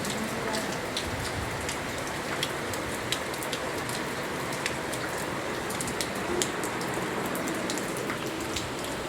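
Steady rain falling at home, a dense even hiss of drops spattering on surfaces with scattered sharper drips, continuous and fairly loud throughout.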